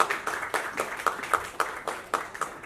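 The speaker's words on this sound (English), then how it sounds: "can we please have a big round of applause for Isha Agarwal here" An audience applauds Isha Agarwal at her book launch, with a quick, rhythmic patter of clapping that sounds like a modest crowd, fairly close and without voices.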